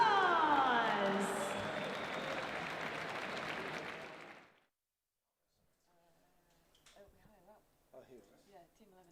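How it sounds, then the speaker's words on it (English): A crowd at a party claps loudly and continuously for a winning team for a few seconds, then it cuts off, and quiet talk follows. "A massive round of applause."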